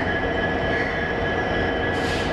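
ALCO diesel locomotive hauling the Kolhapur–Hyderabad Express past on the Hospet line, a loud, close, continuous rumble of engine and rolling wheels with a steady high tone, with no voices.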